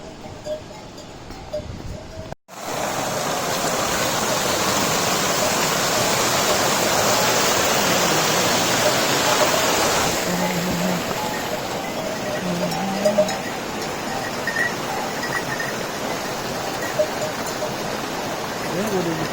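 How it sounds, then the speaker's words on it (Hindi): Mountain waterfalls on the trek route from Kedarnath temple toward Sonprayag roar in a continuous, loud broadband rush that starts abruptly and continues throughout, with faint bell-like tones and occasional voices underneath. "यहाँ से 3-3, 4-4 झरने दिख रहे हैं। देखो एक झरना तो वो रहा, और एक झरना ये रहा"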